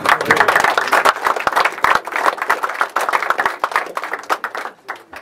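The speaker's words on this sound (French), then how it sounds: "on vous applaudit quand même" Audience at a WWI 14-18 commemorative exhibition ceremony applauding after speeches, a close, dense run of many hands clapping with sharp individual claps, sustained for several seconds and gradually thinning out at the end.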